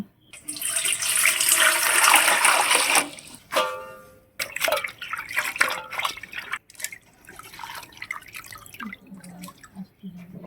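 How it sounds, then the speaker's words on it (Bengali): Water running and splashing in a kitchen while leaves are washed, a loud steady rush at first, then intermittent drips, splashes and handling sounds, close by with no talk. "এই মাথাগুলো বাটবো এই মাথাটা ভালো করে ধুয়ে আনছি"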